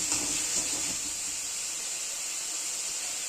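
Onion and spices frying in oil over a high gas flame, a steady bright sizzle and hiss that holds evenly throughout with no voices.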